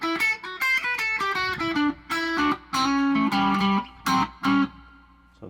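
An electric guitar with ThroBak Fender Lead II pickups set to an out-of-phase middle position plays a run of plucked notes and short chords, each ringing briefly before the next, with a thin, distorted edge and no talking.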